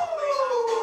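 A dog howls along to a song, one short, close, wavering tone that slides slightly downward, heard alone.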